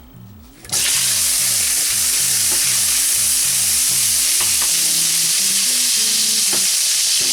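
Leftover cassava frying in hot oil over high heat, a loud steady sizzle starting abruptly and holding throughout, with repeated stirring scrapes and clinks of a utensil against the pan.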